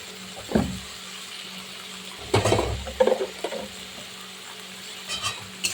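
Koi fish curry with water, turmeric and salt being stirred in a pan: a few short scraping, sloshing bursts against a quiet background, with no voices.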